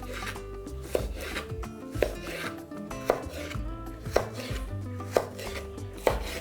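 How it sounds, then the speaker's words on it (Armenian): A knife chops the thick white stalks of Napa cabbage into sticks on a board, sharp evenly spaced thuds about once a second, close and clear over quiet background music, with no talking. "Հաստ մասը, հաստ սպիտակ մասը նույնպես կտրատում ենք ձողիկների։"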